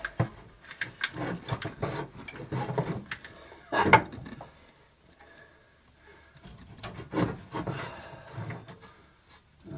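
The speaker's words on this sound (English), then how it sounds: "Now we should be able to pull this whole bracket, everything with the hoses hooked up, out of this thing." Metal clunks, scrapes and rattles come in bursts as a power steering pump bracket with its hoses attached is worked loose and pulled from the engine of an M1009 truck, close by, with quiet pauses between efforts.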